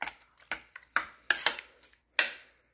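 Metal kitchen utensils clink and clatter as a spoon is picked out from among them, making about six separate bright, ringing knocks spaced irregularly over a few seconds, close and clear.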